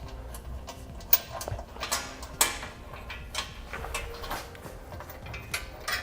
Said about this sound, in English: Use our 13mm socket and tighten these back up.